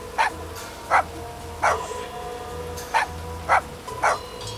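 A person imitates a dog in GTA 5, giving six short barks at a steady, roughly once-per-second pace over a low rumbling background with faint traffic noise.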